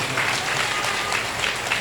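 Church congregation clapping loudly at a Sunday morning prayer and anointing meeting, a dense, steady wash of many hands with no pauses, close and full for the whole stretch.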